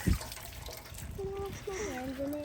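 Water from a POPOSOAP solar fountain pump in a backyard rustic fountain splashes and trickles steadily, close by, with a voice speaking over it.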